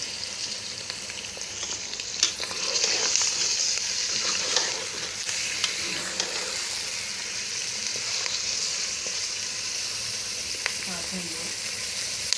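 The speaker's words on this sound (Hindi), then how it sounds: "इसमें जो हमारा गोश्त है वो डाल के इसको भी अच्छे तरीके से हम फ्राई करेंगे" Mutton pieces frying in a pot with whole spices for a stew, giving a steady bright sizzle with occasional stirring clinks, close up, while a voice speaks briefly.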